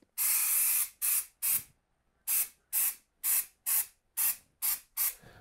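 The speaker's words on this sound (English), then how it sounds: "when you're spraying this primer, you're gonna get runs" A spray can of primer hisses over Bondo on a cabinet in about ten sharp, close bursts, each a second or less, separated by brief silences.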